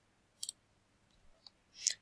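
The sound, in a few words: computer mouse clicking in Skype for Business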